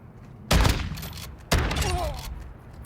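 A shotgun in Modern Warfare 2 fires two loud, close blasts about a second apart, each a broad boom trailing off into a short decay, with no talking over them.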